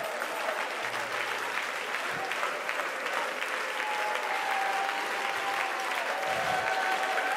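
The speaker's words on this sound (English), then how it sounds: "clap your hands unto the Lord." A church congregation at a revival service claps hands steadily and continuously under a low sustained keyboard tone, a moderately distant, even wash of applause.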